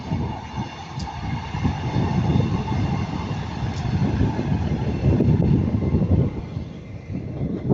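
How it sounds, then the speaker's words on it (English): Class 150 diesel unit 150-107 passing Ardwick toward Manchester Piccadilly, a steady broad rumble and rolling clatter of wheels on track, loud and close throughout with no voices. "we have 150-107 going to Manchester Piccadilly"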